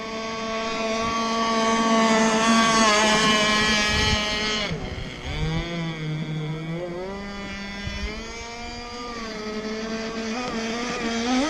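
Zenoah marine engine on a boat held at half throttle, a loud, steady buzzing drone with a brief dip in pitch midway before settling back to an even hum.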